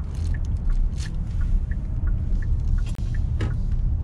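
Hyundai Palisade accelerating on an ordinary road during a driving lesson, a steady low engine and road rumble heard from inside the cabin with a few light clicks and knocks.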